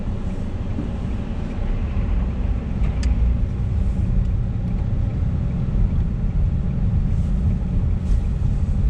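Steady, loud car engine and road rumble while driving through downtown Milwaukee, continuous throughout with no talking.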